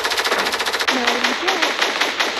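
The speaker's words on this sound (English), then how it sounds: "Wait, am I getting shot down?" Rapid automatic gunfire rattles in quick, evenly spaced shots aimed at the player in a video game, loud and close, then continues more loosely as a voice speaks over it.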